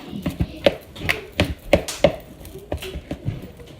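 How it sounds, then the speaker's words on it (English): A big spoon stirs food in a bowl, giving a close series of irregular knocks and scrapes against the bowl with short gaps between strokes. "you're gonna take a nice big spoon and then you're gonna literally just stir it together."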